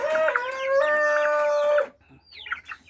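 Mixed-breed Brahma chickens, a rooster and hens: a loud, close rooster crow runs nearly two seconds, then fainter, higher clucks and squawks follow from the flock.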